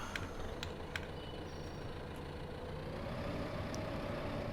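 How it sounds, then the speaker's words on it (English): A small tractor's engine runs in Farming Simulator 15, giving a quiet, steady low drone with no pauses. "So this little tractor works great, and I'm using it at the sheep farm too"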